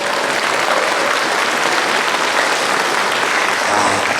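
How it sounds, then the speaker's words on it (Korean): Steady, dense applause from an audience at a political party's year-end gathering in Yesan and Hongseong, loud and continuous for the whole stretch with no pauses. "크게 한번 서로 박수 한번 부탁드립니다"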